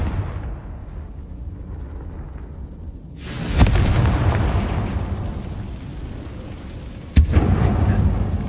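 A Confringo blasting spell in Hogwarts Legacy detonates in a loud, close boom with a long rumbling tail, followed a few seconds later by a second sharp blast that again rolls on, with no talk.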